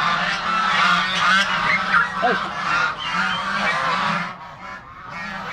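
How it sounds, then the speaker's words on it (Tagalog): A flock of geese honks loudly and continuously at close range, with overlapping nasal calls and a brief shout from a person. "pag mag-ingay yung mga gansa"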